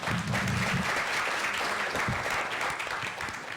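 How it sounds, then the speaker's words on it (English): Audience applause for a panel at a community event, a short, full burst of steady clapping from a room of people, with a brief voice near the start. "give them a round of applause."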